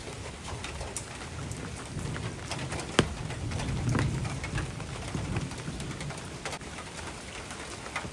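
A pigeon coos softly from inside its nest box while rain patters around it in a village, with a sharp knock and distant thunder rumbling in the background.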